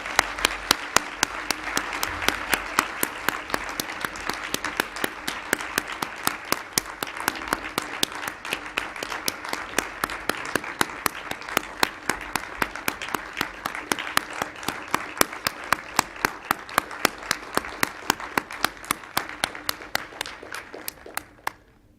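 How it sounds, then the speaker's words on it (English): A large audience at a university forum on immigration reform applauds the departing commentators, sustaining dense, steady clapping for about twenty seconds before it tapers off at the end. "I'd like to ask us to applaud our commentators one more time"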